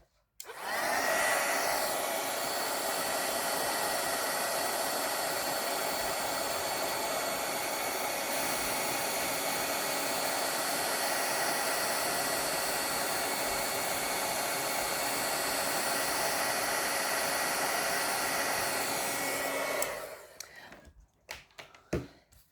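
An embossing heat tool blows steadily at close range for about eighteen seconds, heat-setting embossing powder over stamped lettering, then clicks off, leaving a few faint handling knocks.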